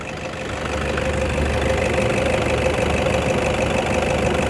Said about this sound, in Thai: อ่าฟังเสียงเครื่องยนต์นะครับผม